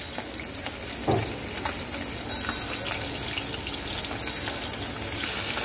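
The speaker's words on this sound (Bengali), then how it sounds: "মাছটাকে খুব সুন্দর করে আমি এখন ভেজে নেব।" Pabda fish frying in oil in a pan, a dense continuous sizzle and crackle close by with a few sharper pops and spatters, no voices.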